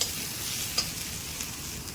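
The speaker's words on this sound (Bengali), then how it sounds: "এবার এটাকে নাড়তে থাকবো।" Slit green chillies frying in oil in a pan for a Bengali kalbos fish dish, stirred constantly: a dense close sizzle with a couple of sharp spatula clinks against the metal.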